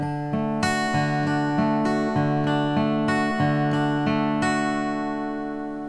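Acoustic guitar played fingerstyle with thumb, index and middle fingers, picking a repeating beginner exercise pattern of ringing notes in an even, steady rhythm, close and clear with no talking.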